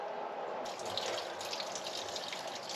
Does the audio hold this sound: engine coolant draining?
yes